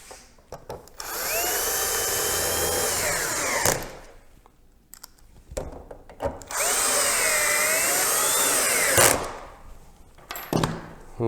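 A power drill drives screws into Nest Flex duct parts in two long whining bursts, its motor pitch rising and dipping under load, separated by quieter handling clicks and knocks.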